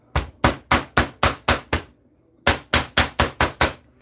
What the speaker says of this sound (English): I'm going to hammer down my edges.